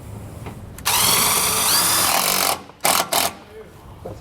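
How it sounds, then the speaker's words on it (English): A power drill driving a screw that fastens a ground wire into a vehicle frame: a loud, close whine running for about two seconds, then two short bursts as it seats, with faint background noise between. "and just drill it right into the frame."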